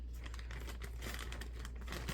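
A plastic bag holding jigsaw puzzle pieces crinkles and rustles continuously and close by, with no talk over it.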